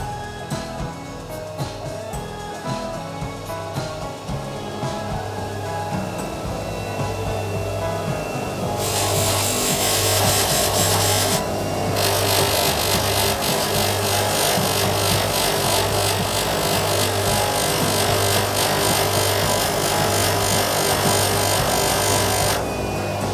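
A lathe buffs a stabilised amboyna burl wooden shaving brush handle, giving a steady rubbing, whirring drone that grows louder and brighter partway through and then holds.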